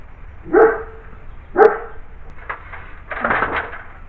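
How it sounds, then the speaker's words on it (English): A neighbor's dogs bark near a boathouse where scaffolding is being dismantled: two sharp single barks about a second apart, then a rougher cluster of barking, moderately close and clear over a quiet outdoor background. "Here's what your damn dogs do to me in my videos."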